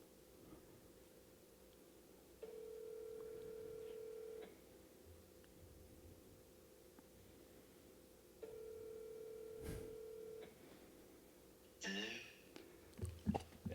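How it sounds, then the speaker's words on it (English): Ringback tone on an outgoing phone call: two long, steady ring bursts separated by a silent gap, fairly quiet, followed by brief rustling handling noise near the end. "Oh crap, it's ringing."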